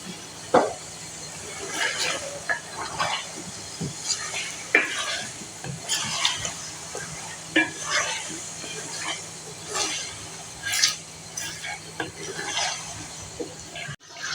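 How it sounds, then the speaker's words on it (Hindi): Chicken fries with garlic and ginger in a pan with a steady hiss, punctuated by repeated scraping and clinking of a spatula or spoon as it is stirred. "तो यहाँ मैंने 3 मिनट लहसुन अदरक के साथ चिकन को भून लिया।"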